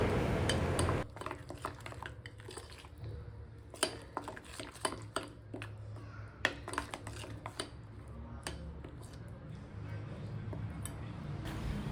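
Fish fry masala paste being stirred with salt and water in a bowl: close, irregular clinks and scrapes of a spoon against the bowl over a low steady background hum.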